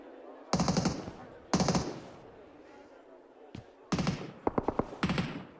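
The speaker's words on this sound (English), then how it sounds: "There's been bullets whizzing through the windows for a while" PUBG Mobile gunfire in a world cup esports match, several loud rapid bursts of automatic fire separated by quieter gaps, with a few sharp single shots near the end and faint background voices.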